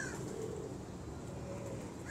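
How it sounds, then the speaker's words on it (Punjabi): Pigeons coo softly and low, a faint, continuous murmur of several birds close together with no voices nearby. "ਇੰਨੇ ਗਫੀ ਕਬੂਤਰ ਹੈਗੇ।"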